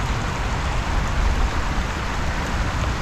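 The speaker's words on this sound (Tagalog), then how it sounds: "Ambon na." Light drizzle falling outdoors, a soft, even hiss of fine raindrops that holds steady throughout with no voices.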